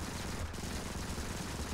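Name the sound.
assault rifle fire in the video game Modern Combat 5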